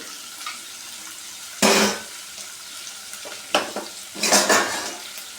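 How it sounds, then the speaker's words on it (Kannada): Sliced onions fry in a pan for eggplant lentil sambar, with a low background sizzle broken by three bursts of stirring and scraping against the pan. "ಈರುಳ್ಳಿ ಚೆನ್ನಾಗಿ ಫ್ರೈ ಆಗಲಿ"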